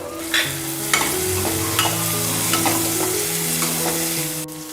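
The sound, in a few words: beans stir-frying in a pan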